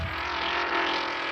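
Slot cars race on a track inside a Thai restaurant, giving a steady, close electric whir and rush that holds evenly loud for a moment with no voices.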